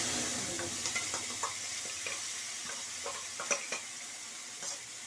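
Spice paste meets hot oil in a pan for a Bengali bottle gourd and prawn curry, making a quiet, continuous sizzle with a few soft clinks and stirring knocks.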